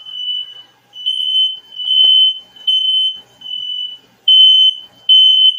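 A smoke alarm in a townhome sounds a loud, piercing high beep in a steady repeating pattern of about half-second tones separated by short gaps, with nothing else audible.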